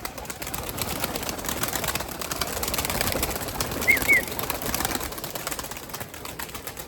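Limoni breed pigeons coo softly in a loft over a steady bed of background noise, with a brief flutter of wings near the middle.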